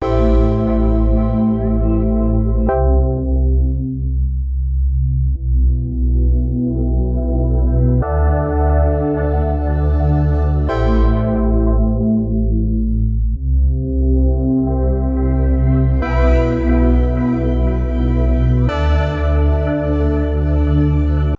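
A sustained synth chord is swept by an Ableton Live auto filter, its brightness repeatedly closing to a dull tone and opening back up in slow rising and falling waves.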